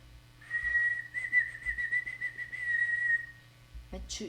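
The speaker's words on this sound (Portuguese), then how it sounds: "He blew the whistle to start the game." A steady high whistle blast sounds to start a game, a single sustained tone lasting about three seconds with slight warble, fairly clear and alone with low background hum.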